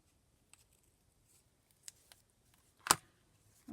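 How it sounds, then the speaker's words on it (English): Scissors snip paper for a scrapbook glue journal, giving a few sparse, quiet cuts and one louder crisp snip in a quiet room. "So we'll just cut that a little bit out there."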